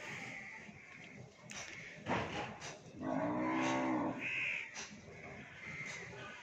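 A Nili Ravi buffalo in Punjab, Pakistan gives a long, deep, close moo in the middle, with a shorter call just before it, over faint farmyard background and a few crow caws.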